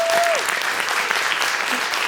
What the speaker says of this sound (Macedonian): еден аплауз огромен за Мија